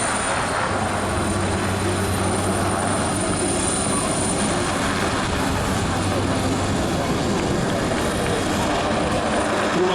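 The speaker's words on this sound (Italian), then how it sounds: "vedete l'elicottero ruota sui 360 gradi, acquisisce quota" An HH-139 helicopter flying at the Jesolo air show, a loud, continuous rotor and turbine roar that holds steady throughout, with crowd and ambient noise around it.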